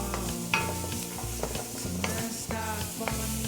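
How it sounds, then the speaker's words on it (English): Sliced onions hit hot oil in a pan while cooking Filipino beef caldereta, giving a steady sizzle broken by repeated close scraping stirs of a utensil against the pan, with no talking. "add a little bit of oil to that. Let's throw those onions in."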